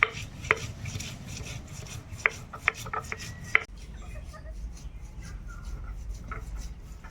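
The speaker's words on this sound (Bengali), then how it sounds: "আদা রসুন একসঙ্গে বেটে নেবো" Rhythmic scraping and knocking of stone on stone as ginger and garlic are ground on a grinding stone, a few sharp clacks among rubbing strokes, followed by softer grinding against low background noise.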